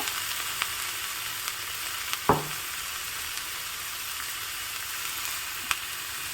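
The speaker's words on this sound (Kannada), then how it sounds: "ಈಗ ಇದೆಲ್ಲವನ್ನು ಚೆನ್ನಾಗಿ ಬಾಡಿಸ್ಕೋಬೇಕು" Ingredients sautéing in a pan for a village-style breakfast, a constant low sizzle with one clear scrape and a few light taps of a spatula.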